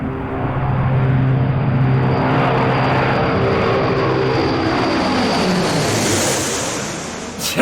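A propeller-driven plane passes overhead, a loud, steady droning roar that swells and then slowly fades as it moves away, with no talking.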